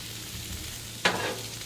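Chopped onion cooks on a hot griddle with a soft, steady sizzle, then a sharp scrape or stir cuts in near the end, close up and without talk.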